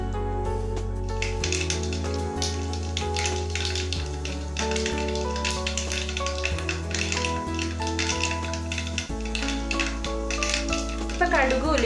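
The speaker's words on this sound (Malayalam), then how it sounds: "ഇപ്പൊ കടുക് ഉലുവയൊക്കെ നന്നായിട്ട് മൂത്ത് വരുന്നുണ്ട്" Mustard seeds and fenugreek crackle and pop in hot oil for a papaya pickle tempering, giving a steady close sputter of quick sharp snaps beneath a constant low hum.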